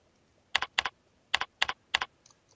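Code typed on a computer keyboard in five sharp double-click bursts, crisp and close in a quiet room, with a faint tap at the end and no voices.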